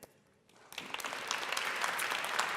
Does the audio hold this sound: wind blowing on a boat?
no